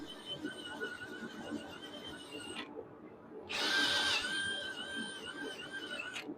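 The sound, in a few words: drill with wire brush attachment cleaning forge scale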